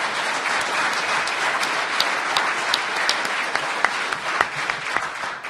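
A roomful of people claps steadily in loud, continuous applause, with a few sharper individual claps standing out near the end.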